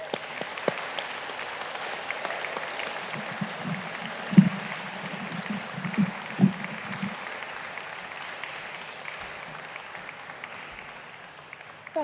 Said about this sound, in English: Let's give Ali a massive round of applause